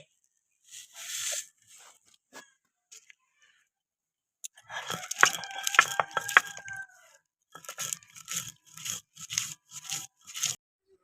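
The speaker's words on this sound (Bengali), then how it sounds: "এবার আমি ভাজা মশলাটা বেটে নেব" Fried spices ground by hand on a grinding stone, bursts of rough scraping and crunching strokes in uneven rhythmic groups, fairly close, with a rooster crowing faintly in the background.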